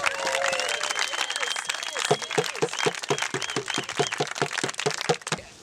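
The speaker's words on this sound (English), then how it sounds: "Let's just give a little round of applause." Applause from a small group at an outdoor sand frisbee tournament in East Africa, starting among voices and chatter, then settling into a run of sharp, evenly spaced claps before cutting off.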